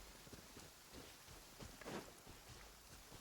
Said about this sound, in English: I love how it's raining too, that makes this even more ominous.